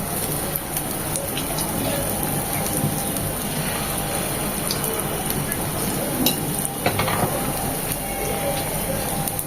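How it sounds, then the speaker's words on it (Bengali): Fish roe sizzling and crackling steadily in hot oil, a dense continuous frying hiss with occasional pops, close by. "মাছের ডিমেরটা খুব ভালোভাবে মচমচে ভাজা হবে"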